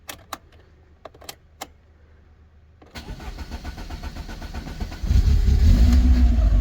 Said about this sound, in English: If you blip the throttle, then it kicks into life, and then oh, it's still sitting high